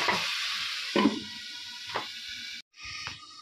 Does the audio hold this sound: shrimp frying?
yes